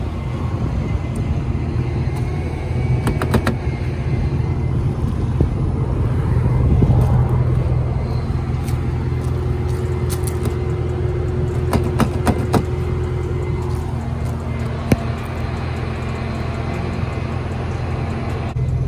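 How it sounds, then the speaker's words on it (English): A car engine runs at a steady idle, a constant low rumble close by with faint background noise and occasional small clicks, no one speaking. "So my car is on."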